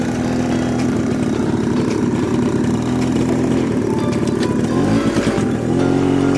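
Motorcycle engine labouring in first gear on a rough, muddy trail past rice fields, a loud, close, continuous rumble with uneven throttle pulses and no voices over it.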